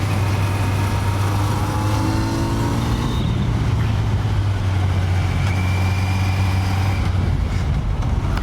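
A Kawasaki Z900 motorcycle engine drones loudly and steadily up close while riding, its pitch shifting slightly as the rider rolls on and off the throttle.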